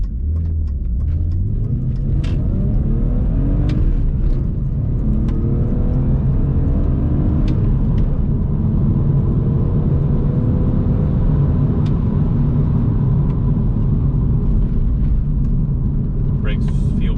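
A BMW E46 325i coupe from 2001 with a manual gearbox pulls away in first gear, its engine a steady low rumble and drone heard from inside the cabin, with faint clicks and road noise over it.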